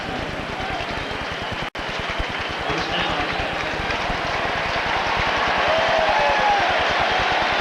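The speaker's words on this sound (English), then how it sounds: "the crowd reaction to the first down" Crowd at a 1990 NFL game between the L.A. Raiders and Seattle, cheering a first down: a broad, sustained stadium roar that swells slightly over several seconds, with a brief cut near the start and the sound of an announcer talking underneath.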